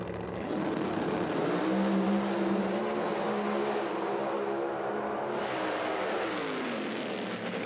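A pro mod drag racing car roars down the track at an IHRA Outlaw Nitro Series event, a loud sustained engine drone with rising and shifting pitch, heard from a distance.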